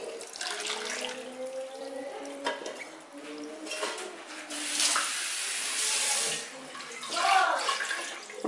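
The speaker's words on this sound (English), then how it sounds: "Rinse the pot and add." Water runs from a tap and splashes around inside a cooking pot in a kitchen, with a few clinks of metal, close up and fairly quiet.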